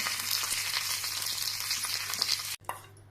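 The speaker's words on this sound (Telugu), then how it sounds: "పెరుగు పచ్చడిలో తాలింపు వేస్తున్నాం" Tempering of mustard seeds, dried red chillies, curry leaves and turmeric sizzling in hot oil for a curd chutney: a dense, steady crackle close by, cut off by a brief silence before resuming.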